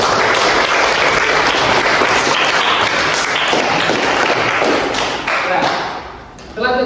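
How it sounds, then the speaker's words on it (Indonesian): Students in a classroom applaud together, a loud, dense burst of clapping that carries on steadily for several seconds before thinning out. "Oke, tepuk tangan dulu."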